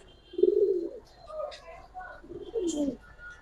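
Giribaz pigeons coo close by in soft, low, throaty phrases: two main bursts separated by quieter murmurs, with faint background chatter.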